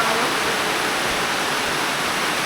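Heavy rain falls as a dense, steady broadband hiss, loud and unbroken throughout with no voices.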